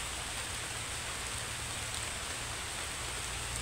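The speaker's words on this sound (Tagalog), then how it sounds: "So yun, nabutan tayo ng ulan." Steady rain falling outdoors, a constant hiss of drops hitting surfaces, even and unbroken throughout with no voices.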